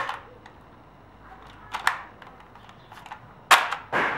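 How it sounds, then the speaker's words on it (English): A Nerf Zombie Strike RipShot toy blaster fires a disc, giving a few sharp plastic clacks and snaps, with the loudest near the end, close by and with no talking. "So let's go ahead and try firing it out here."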